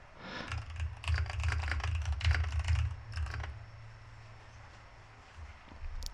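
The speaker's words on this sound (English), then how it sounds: "So we're going to just type in a quick prayer." Close, rapid clicking of keys on a computer keyboard comes in quick bursts, then fades to quieter, sparse taps.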